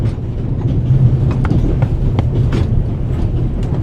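Train cars rolling along rails aboard the Orient Express in The Raven Remastered, a steady low rumble with faint clicks of wheels over track joints, continuous and close throughout.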